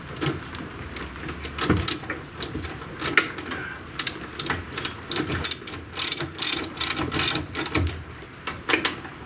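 A ratchet wrench tightens front suspension bolts on a 1994 Mazda Miata, giving rapid bursts of clicking in uneven runs with short gaps between them, close and fairly loud, with no voices.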